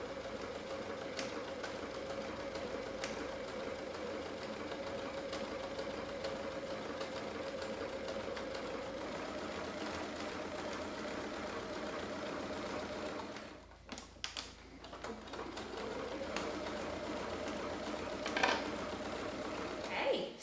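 A sewing machine stitches the seam of a fabric shopper bag, running in a long steady whir with a brief stop and restart partway through, close and continuous, with faint talking.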